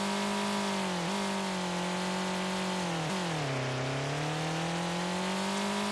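An old, beat-up car engine runs with a loud, close, steady droning hum whose pitch dips and rises slightly a few times, with no voices.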